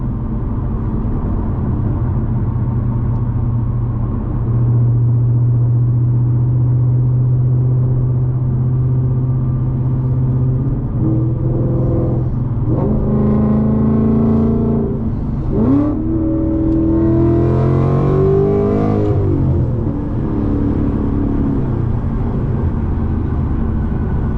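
An 800-horsepower 2025 Ford Mustang GT, a rear-wheel-drive two-door coupe with a manual transmission, cruising with a steady low engine drone, then several rising revs and throttle surges toward the end, close and loud, with no talking.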